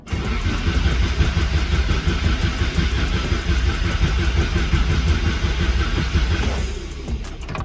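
A Daewoo Lanos with a stubborn starting problem runs with a steady, close engine rumble that continues without a break and eases slightly near the end, with no talking.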